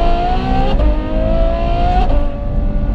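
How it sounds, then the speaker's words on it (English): Ferrari F12 with Novitec N-Largo carbon body and straight-through titanium exhaust, its V12 engine revving loudly and steadily close by, the pitch climbing and dipping twice with no talk. "the exhaust system is a straight-through titanium system"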